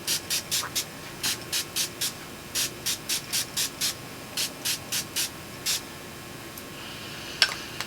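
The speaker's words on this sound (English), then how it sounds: "that's a nice mist" A makeup priming mist sprays in a quick run of short, sharp hissing bursts, close and loud, with a few pauses between groups and one final click.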